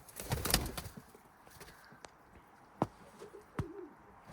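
Pigeons coo softly in a pen as a bird is let in, with sharp clicks and knocks, a brief flutter early on and a low coo near the end.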